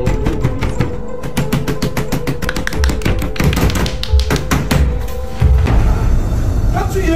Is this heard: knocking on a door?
yes